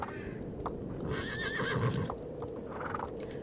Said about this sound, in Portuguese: Eu não sabia que o relincho dele era diferente.